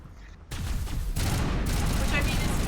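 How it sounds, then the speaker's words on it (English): Rapid, dense gunfire from a firefight in Mass Effect Legendary Edition, a loud continuous volley that starts abruptly after a brief quiet moment and keeps up to the end. "aggressive gunfire noises"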